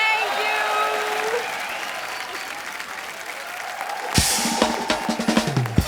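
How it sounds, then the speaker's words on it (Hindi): Steady applause from a TV comedy talk show's studio audience fills the clip, then cuts off into a few scattered claps near the end. "जोरदार तालियां सोनाक्षी और शिवानी के लिए"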